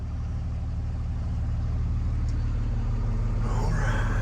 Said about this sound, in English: Got a car coming.